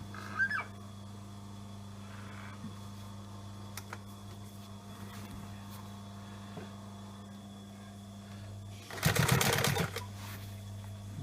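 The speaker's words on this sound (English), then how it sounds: "now that my piping's been sewn up, I'm going to sew that to my top panel" Sewing machine stitching leather sofa piping onto a top panel, a brief burst of rapid mechanical stitching near the end over a steady low electrical hum, with faint clicks earlier.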